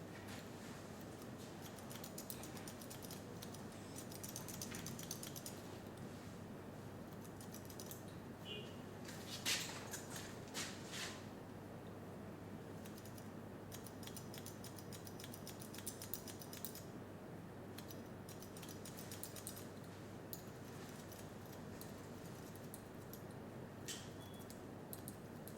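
Scissors snip hair in quick, light bursts as a comb lifts the hair during a low skin fade with a side part, faint crisp clicks repeating in short clusters over a quiet room.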